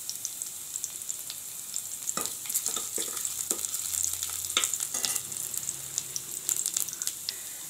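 Cut ginger and garlic sauté in a hot pan for vegetable soup, giving a soft, steady sizzle with scattered crackles and occasional stirring scrapes; no voices.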